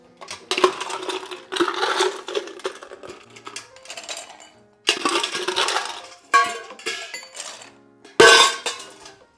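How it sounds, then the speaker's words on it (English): Ice cubes drop into a glass while a rosemary Chartreuse gin and tonic is being built, several bright clinking, rattling bursts close up with short pauses between them. "Add ice."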